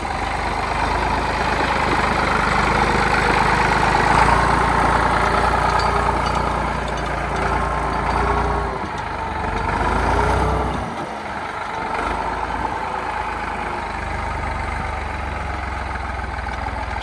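A heavy tractor engine idles nearby with a steady low rumble, its tone dipping and swelling slightly throughout.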